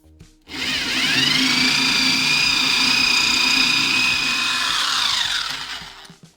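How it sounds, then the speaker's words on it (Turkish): A power drill whines at a steady high pitch while boring into a wall for an electrical outlet box, spinning up and winding down over several seconds. "şu arka kısımdan matkapla bir delik açıp arka tarafına bunun bir delik açacağız"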